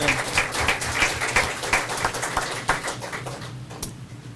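Applause from the audience at a city council meeting in Brawley during an awards presentation, a few seconds of scattered clapping in a large room that thins out and fades toward the end.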